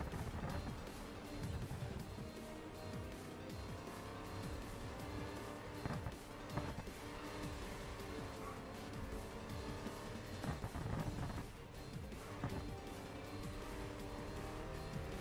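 A Ford Mustang races and drifts in the Grid Legends driving game, its engine roaring steadily with intermittent tire squeals throughout, loud and continuous with no pauses.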